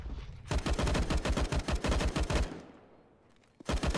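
Gunfire from the video game CS:GO comes as rapid bursts of close, loud shots that stop briefly and then resume.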